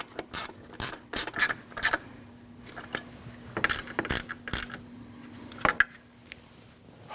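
A 10mm bolt and nut being tightened with a ratchet on a 2003-2008 Subaru Forester 2.5L H4 during an oil pressure sender replacement; bursts of close, rapid clicking ratchet strokes separated by short pauses, with no talk.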